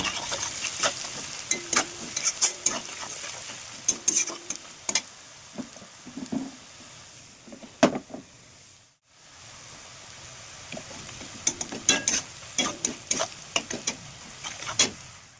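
Rohu fish pieces fry in hot oil with salt and dried red chilli, a dense close sizzle punctuated by repeated scraping and clattering of a spatula, briefly dropping out midway before resuming.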